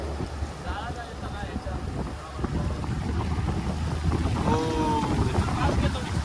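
Sea water surging and rushing between large rocks beside a boat on a deep-sea fishing competition trip off India, a steady roaring wash mixed with wind buffeting the microphone as someone talks over it.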